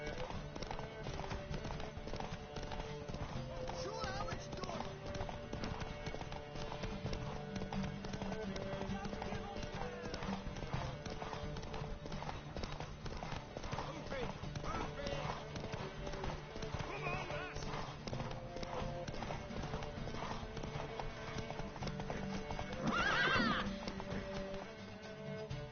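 In The Witcher 3, a horse's hooves clip-clop steadily throughout over a busy game soundscape, with occasional louder accents suggesting a neigh near the end.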